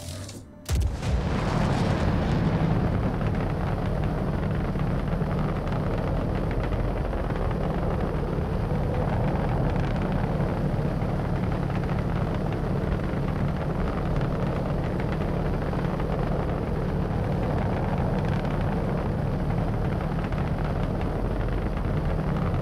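A torpedo fired from an Aegis Eclipse bomber in Star Citizen during bounty hunting: one sharp launch transient, then a sustained loud rumbling roar of the weapon and blast that fills the whole stretch without talk.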